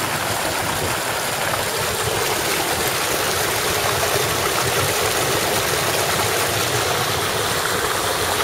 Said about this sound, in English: It's making two little waterfalls.